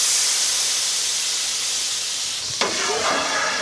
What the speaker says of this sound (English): So I'm gonna deglaze the pan with a little bit of vermouth.